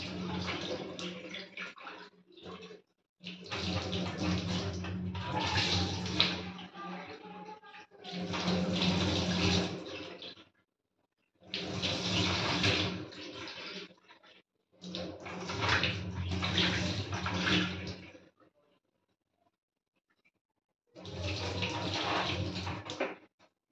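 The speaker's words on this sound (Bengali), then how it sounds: "এবার ভালো করে ডালটাকে ধুয়ে নিতে হবে।" Lentils are washed under running tap water in bursts of splashing flow, separated by short silent gaps, heard nearby at moderate loudness.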